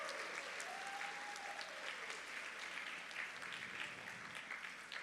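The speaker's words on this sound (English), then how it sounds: "Can we give them a big round of applause?" Audience clapping fills a school assembly hall, a steady moderate wash of hands from a crowd with a faint voice or tone drifting underneath.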